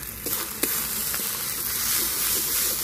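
Cumin and coriander powder fry in a pan with a steady, even sizzle and a couple of faint stirring scrapes near the start, with no talk.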